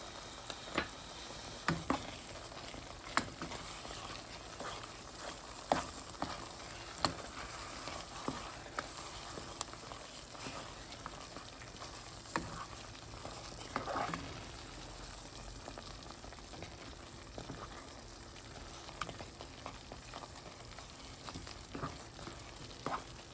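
A stick of butter sizzles as it goes into a pan of cooking grits, a faint, steady crackle with scattered small pops and ticks throughout, no talking.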